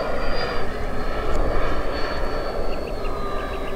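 Giant RC Airbus A350 XWB scale model airliner coming in to land outdoors, its engines giving a steady, loud, continuous roar with a faint high whine throughout, heard alone without talk.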